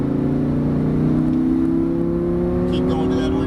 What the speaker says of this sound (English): Squeeze that throttle and accelerate out to our left side